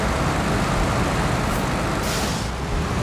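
A heavy truck labors through a Kola Peninsula off-road driving game, giving a loud, dense, continuous engine and road rumble with a brief hiss partway through, with no voices.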